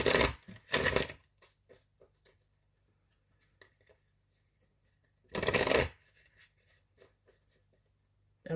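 A deck of oracle cards is shuffled close by in two short riffling bursts separated by several seconds of near quiet with faint handling sounds.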